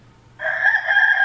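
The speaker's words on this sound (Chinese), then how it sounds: "就公鸡开始叫了。" A short recorded rooster crow plays from a talking children's picture book with interactive flaps. It is one sustained, close cock-a-doodle-doo that starts abruptly after a near-silent moment.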